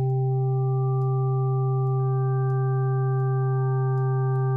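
Steady additive-synthesis sine tones hold a low chord, and more pure pitches join about halfway through, layering into a bright, unchanging hum with nothing else sounding.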